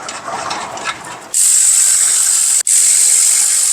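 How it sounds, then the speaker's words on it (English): Ratchet tightening caliper bolts on a Cadillac Escalade during rear pad and rotor replacement, first a soft clicking, then a loud, rapid, continuous ratcheting whir close to the microphone with one brief pause. "Now we can reinstall the caliper and the bolts."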